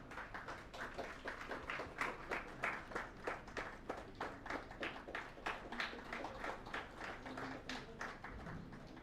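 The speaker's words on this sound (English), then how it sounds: "Huge round of applause" Applause from an audience at a foundation day celebration, rhythmic, fairly faint clapping with a regular beat that continues for about nine seconds.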